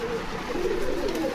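Pigeons coo in a pigeon house at a market in Bogura, giving low, throaty repeated calls. They sound close and moderately loud against a soft background, with no talking.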